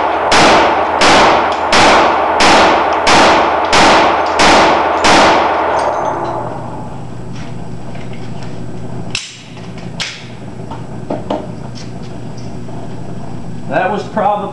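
Handgun shots fired at an attacker inside a retail store ring out in a rapid series of about eight loud, evenly spaced reports with ringing decay, then fade into quieter store background noise and a few faint knocks.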